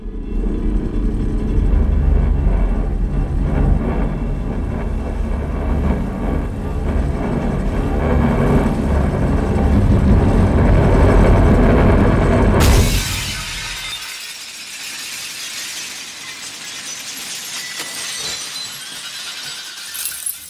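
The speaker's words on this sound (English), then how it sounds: "We had to create that sense of vibration, a didgeridoo type sound that preceded the smashing glass." A deep, droning didgeridoo-like vibration for a film scene rumbles loud and steady for about twelve seconds, then a sudden crash of smashing glass gives way to a scattered, tinkling hiss of falling shards.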